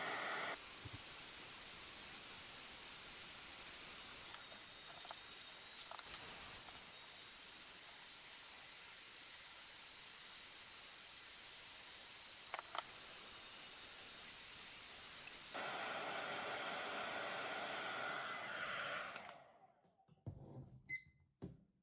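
A hair dryer blowing on a TPU hoof boot gives a steady broad hiss for nearly twenty seconds. The sound shifts partway through, then is switched off and followed by faint handling noises.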